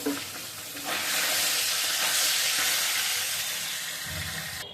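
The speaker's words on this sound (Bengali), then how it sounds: "সবগুলো মাছ ভেজে উঠিয়ে নিলাম।" Fish frying in oil makes a loud rushing sizzle that swells after the first second and holds steady close by, easing slightly near the end, with no voices.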